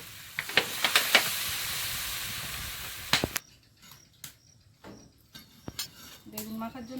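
Water poured into a hot frying pan after frying chili for an eggplant mash releases a burst of hissing steam that crackles loudly for about three seconds, then dies to quieter clatter and faint kitchen sounds.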